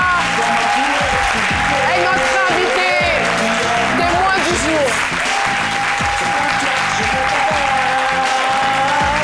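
A studio audience on a live midday TV show applauds a young woman guest, sustained clapping throughout while a host keeps speaking over it.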